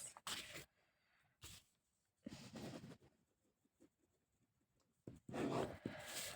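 Notes being written by hand in a few separate scratchy bursts, each lasting under a second, with quiet pauses between them, close and fairly soft.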